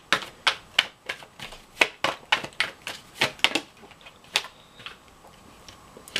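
Tarot cards being handled and one drawn from the deck: a quick series of crisp, close taps and snaps, about a dozen sharp clicks in an irregular rhythm that thin out toward the end, no voices.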